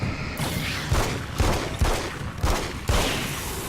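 Gunfire from a weapon in the video game Alan Wake's American Nightmare, fired in a motel level: about five heavy, booming shots spaced roughly half a second apart, each with a deep thump and a bright crack over a steady background din.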